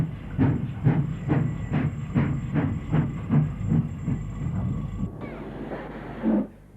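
Stanier Black 5 steam tender locomotive running, with a steady rhythm of regular chuffing exhaust beats over a hiss and a faint high whine, the beats easing off near the end.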